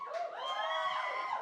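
A studio audience lets out a sustained burst of high-pitched cheering and shouting on cue, many voices blending into a bright, steady roar for about a second and a half.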